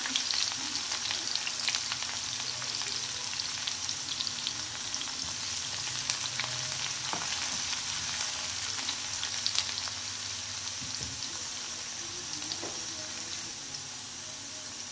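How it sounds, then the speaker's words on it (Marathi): Finely chopped onion frying with cumin seeds in hot oil in a pan, a steady dense sizzle holding through the whole stretch with occasional stirring scrapes, no talk. "जिरं फुललं की मग 1 कांदा टाकायचा बारीक कापलेला, त्याला थोडं परतून घ्यायचं।"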